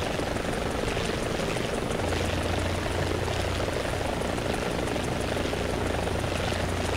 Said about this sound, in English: Sounds like I'm hearing a plane.